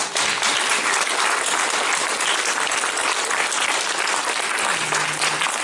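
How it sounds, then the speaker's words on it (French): Sustained, loud applause from a festival concert audience, many hands clapping evenly throughout for the association Raphaël. "Et je voudrais qu'on applaudisse l'association Raphaël"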